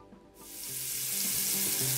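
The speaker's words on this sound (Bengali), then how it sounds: "আরেকটি কাবাব ভেজে নিচ্ছি" A chapli kabab hits a hot pan, and after a brief near-silence a loud hiss of frying swells and holds steady to the end.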